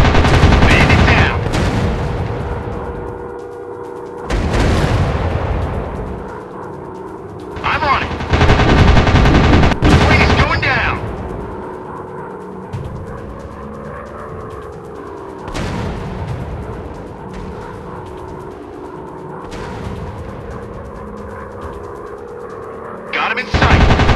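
Rapid machine gun bursts from World War II fighter planes in the Warplanes dogfight game, loud and repeated, firing in several separate volleys between droning engine noise and explosive booms.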